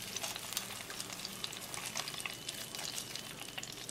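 Coated salmon pieces frying in a pan make a soft, steady sizzle with quick crackling pops scattered through it, close but fairly quiet.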